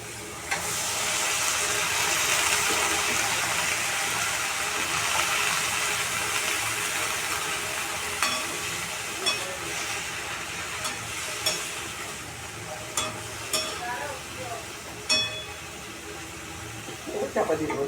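Bottle gourd greens drop into a hot pan and hiss in a loud, steady sizzle that gradually calms. Intermittent clinks and stirring scrapes follow, and a voice speaks now and then.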